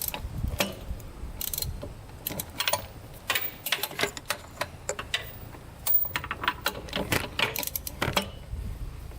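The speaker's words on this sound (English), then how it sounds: "if I hold this right here and try to crank over the motor, check this out" The engine of a Honda 400ex ATV with seized crank bearings is turned over by hand, giving irregular metallic clicks, clunks and ratcheting taps, close and moderately loud, in uneven bursts.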